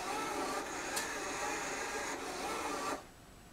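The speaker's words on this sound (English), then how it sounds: "I think we've successfully tested that the A motor moves nicely" A small motor turns a robot creeper's head, giving a steady whirring drone for about three seconds before it stops, close and alone with no talking.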